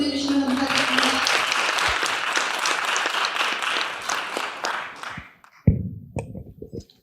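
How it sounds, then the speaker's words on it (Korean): A school audience claps loudly and continuously for a middle school student about to present at a youth science talk contest, with dense applause fading out and a few scattered claps at the end. "떨지 말라고 다시 한번 큰 박수 보내주시면 감사하겠습니다"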